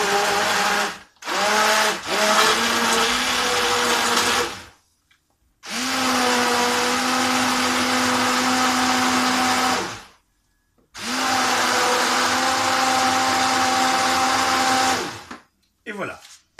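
A kitchen blender grinds orange sauce for wild duck à l'orange in three long, loud whirring bursts separated by short pauses, with a brief stop-start at the beginning.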